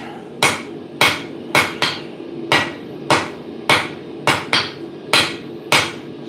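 About a dozen sharp, ringing hammer blows dress steel for a lap-welded socketed chisel, struck close by in a fairly steady rhythm with a few quick doubles, with no talk.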